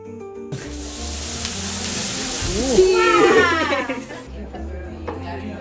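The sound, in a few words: duck sizzling as it is cooked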